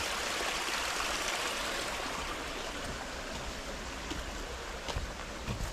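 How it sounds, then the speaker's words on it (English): Steady rushing of a small waterfall and flowing stream, a constant broad wash of water close by with no voices. "And a little waterfall and stream."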